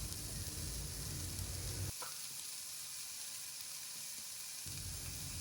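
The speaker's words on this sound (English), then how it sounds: "now on medium flame, we will saute the veggies for just 1 to 2 minutes" Steamed vegetables sizzle and fry steadily in a karhai over medium flame, a soft crackling hiss that briefly drops quieter midway while being stirred, with no talking.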